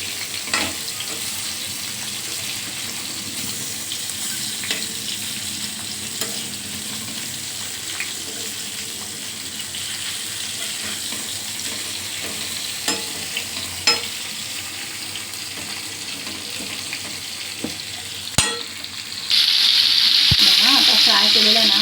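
Bombil (Bombay duck fish) frying in a pan, a steady dense sizzle throughout, close and fairly loud, with occasional clinks and a sharper hissing surge near the end.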